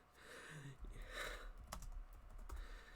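Keys clatter on a computer keyboard while playing an online Yu-Gi-Oh! card match, a faint, irregular tapping of a few scattered strokes with light background noise.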